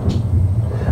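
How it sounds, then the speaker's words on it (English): Loud, continuous thunderstorm rumble in the Five Nights at Freddy's 3 video game, a heavy low roar that fills the whole second with no pause. "It's like a thunderstorm going on or something. It's like super loud."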